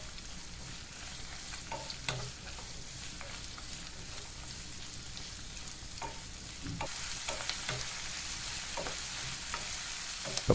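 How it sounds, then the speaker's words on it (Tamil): Chopped onions sautéed lightly in a pan for curry leaf chutney, with a steady close sizzle broken by scraping stirs of the spatula and a brief louder burst partway through. "இந்த சமயத்தில் வெட்டி வச்ச வெங்காயத்தை போட்டு நம்ம இதை லேசாக வதக்கிக்கலாம்"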